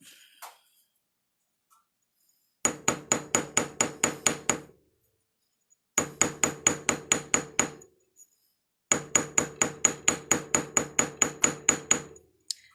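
A small hammer taps fine silver ring links in three quick bursts of about ten sharp, bright strikes each, separated by short silences, close and clear.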